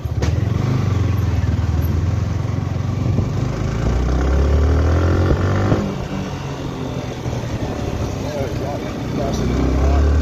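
Steady motorcycle engine drone while riding at night, close and loud, with road rumble and some clatter, easing slightly partway before rising again.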